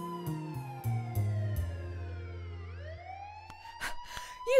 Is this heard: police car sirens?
yes